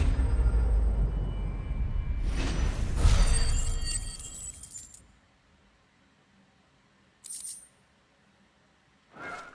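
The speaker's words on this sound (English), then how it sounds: "But you can hear clinking sounds on his armor." Armor clinking in Final Fantasy 16, bright metallic jingles and clanks rising out of loud combat noise, then two short separate clinks after a near-silent gap.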